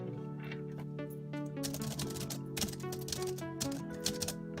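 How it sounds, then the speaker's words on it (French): Rapid mechanical clacking of keys struck in irregular bursts on a Perkins braille keyboard of a BrailleNote Touch tablet, close and crisp, over a low steady hum. "Je viens de vous faire entendre le clavier Perkins"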